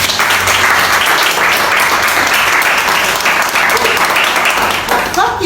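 An audience at a product demonstration for Super Clean towels bursts into sustained, dense applause, loud and close, with a voice briefly heard within the clapping.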